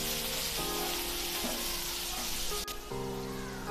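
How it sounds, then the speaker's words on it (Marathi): Finely chopped onion sautés in a pan until golden brown, giving a steady, close sizzle with a faint tonal hum underneath and a brief stir-like scrape near the end. No voices are heard. "बारीक चिरून घेतलेला कांदा, कांदा छान आपण गोल्डन ब्राऊन होईपर्यंत परतून घेऊया"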